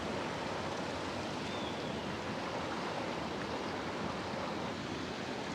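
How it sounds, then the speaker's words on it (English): A geothermal steam vent in a volcanic area along the Pacific Crest Trail gives off a steady, broad rushing hiss, with bubbling water blended into the continuous noise. "You can actually hear water bubbling."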